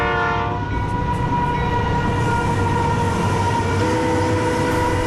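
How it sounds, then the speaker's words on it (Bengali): A train arriving at a railway station sounds its horn loudly at the start over a heavy, steady rumble of wheels and carriages that continues throughout. "এসে গেছে তোর ট্রেন"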